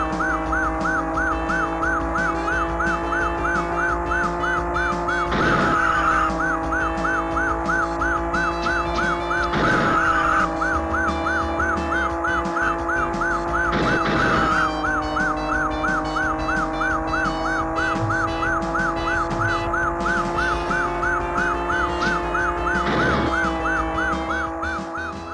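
Police siren in the Sega Saturn version of the Chase HQ video game, a loud, rapidly warbling electronic wail held steadily throughout, with game music and periodic crash-like bursts underneath.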